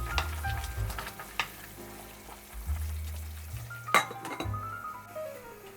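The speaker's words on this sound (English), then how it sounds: "Halfway through cooking, stir once." Soup of nappa cabbage and chicken meatballs simmering in a pot and stirred once, with clinks of a utensil against the pot over a soft bubbling sizzle and one sharper knock, fairly faint and close, alongside gentle background music.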